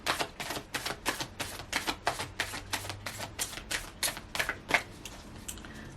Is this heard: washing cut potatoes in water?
no